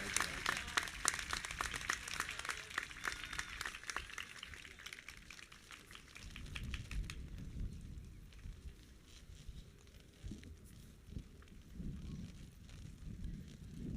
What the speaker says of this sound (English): Another big round of applause, please.